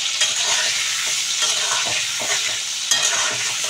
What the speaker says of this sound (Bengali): তো আলুগুলো একটু ভাজা হয়ে যাক